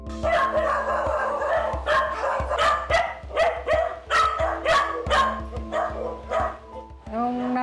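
Several dogs from a household of 35 dogs and 9 cats bark in repeated bursts, loud and close, with overlapping yips between barks.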